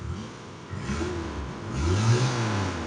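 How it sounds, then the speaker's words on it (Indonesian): A 1999 Toyota Kijang Krista with manual transmission revs its engine nearby, a rough, steady drone that rises and swells in pitch and loudness toward the end, with no talk. "Kemudian suara mesin Kijang itu"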